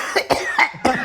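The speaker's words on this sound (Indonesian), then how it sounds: "Aku izin batuk sebentar." A person coughs four times in quick succession, close and fairly loud, with brief gaps between the harsh bursts during a Humor Sufi talk show.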